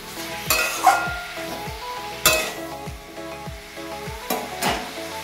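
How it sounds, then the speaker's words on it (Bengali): Onion and capsicum frying in a pan for Bhutanese ema datshi, a steady sizzle broken by a few sharp clinks and scrapes of a spoon stirring against the metal, close and alone with no voices. "আমি এটাকে একটু নাড়াচাড়া করার পর ঢাকা দিয়ে দেবো।"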